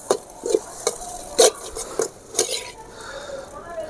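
A metal spoon scrapes and clinks against a pan while drumstick leaf and egg fried rice is stirred, giving irregular knocks and scraping strokes with a faint sizzle underneath.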